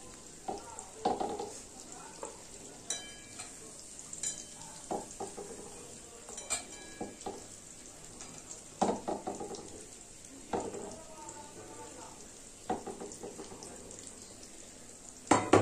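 Salt-and-turmeric-marinated fish sizzles as it fries in a pan, with a steady crackle broken by clinks and scraping of utensils against the pan.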